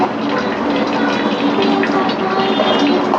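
Starchy cooking water is drained off three-quarters-cooked rice for mutton paya biryani in a home kitchen: a steady, close rush of pouring water with a faint hiss of steam, continuous throughout, with no talk.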